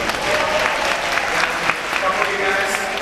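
A crowd at an aquatic show with Pacific white-sided dolphins applauds in a dense, steady clatter of clapping, with a voice faintly mixed in underneath.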